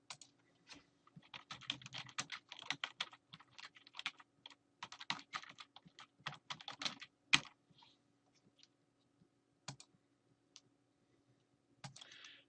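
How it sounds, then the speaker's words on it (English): Keys clatter on a computer keyboard as a password is entered, bursts of quick close typing with short pauses, then a few isolated clicks near the end. "have to enter the password."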